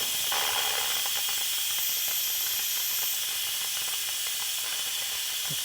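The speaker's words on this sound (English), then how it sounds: "we're going to release it manually now. And as you can see, there's a lot of steam coming out." Instant Pot venting steam during a manual pressure release, a steady, loud, broadband hiss that holds continuously throughout without pauses, close up and unaccompanied by talk.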